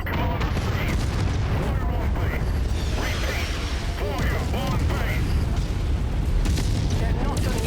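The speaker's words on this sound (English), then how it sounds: "Yeah, more artillery." Artillery fire in MechWarrior 5 as deep booming blasts and rumbling explosions crowd a dense, continuous battlefield din, with mechanical clanks and a voice talking over parts of it.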